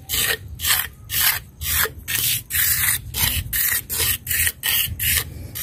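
Rhythmic rubbing strokes smooth a dried coating on metal being finished to look like wood, using a brush or spoon, about a dozen close, rasping back-and-forth passes in a steady rhythm.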